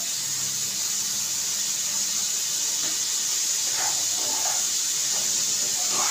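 Paneer frying in a pan over a full gas flame, a steady close hiss and sizzle running unbroken from start to finish with a few faint clinks and stirring sounds partway through.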